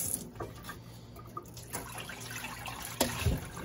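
Sea moss is rinsed in water close by, with sloshing, dripping and trickling in short irregular bursts and a sharper splash near the end, moderately quiet with no talk.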